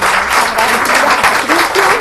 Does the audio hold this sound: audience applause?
yes